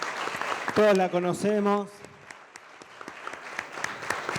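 An audience at a communications congress applauds Graciana Peñafort, steady clapping that begins under a man's spoken introduction and continues alone after he stops.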